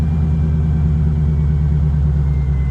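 A 1986 Chevrolet Corvette C4 engine idles close by, a steady, even low rumble that holds without change for the whole stretch, with no voices over it.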